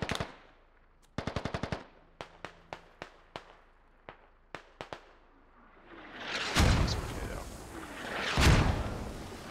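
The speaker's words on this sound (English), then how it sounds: "They're trying to mortar us in the bridge." Bursts of rapid machine-gun fire and single gunshots crack in the opening seconds of a video-game battle, followed by two heavy rumbling mortar explosions, loud and close, with no talking.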